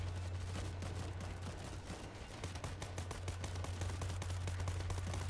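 An automatic turret in World War Z keeps up a steady chatter of rapid fire, faint and continuous under a low steady hum and background game noise.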